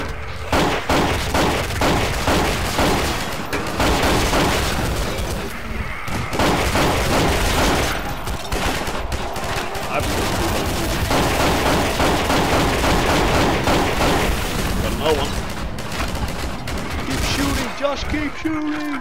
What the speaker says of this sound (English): Just keep shooting! Fire! Fire!